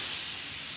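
Garlic and onion sizzle in a pan on maximum heat, a loud, steady, close hiss of frying with no break.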